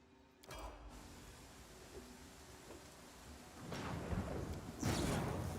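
Thunder from a lightning strike in the video game Pathfinder: Kingmaker rumbles over a rain-like hiss, quiet at first and then building into two louder crackling bursts toward the end.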